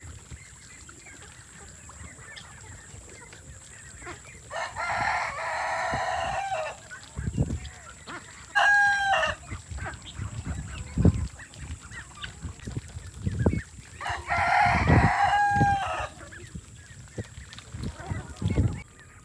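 Broiler chickens cluck and call intermittently in a noisy barn, with soft, scattered thumps and a constant hum in the background.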